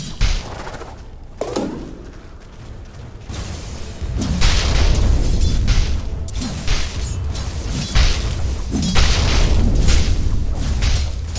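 Dota 2 tower under attack: a rumble of booming impacts and mechanical clanks, with repeated heavy hits and bursts building in loudness over several seconds.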